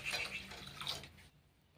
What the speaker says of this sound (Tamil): அது கூட கொஞ்சமாக தண்ணி வந்து சேர்த்துக்கிறேன்